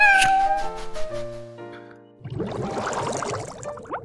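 A pink pet cat in the Roblox game Adopt Me gives a couple of short, high meows near the start, then a louder burst of busy, rustling game sounds takes over.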